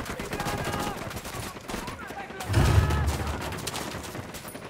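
Rapid gunfire from Tom Clancy's Ghost Recon Wildlands crackles steadily throughout, with a heavier thudding blast midway, while faint voices sit underneath.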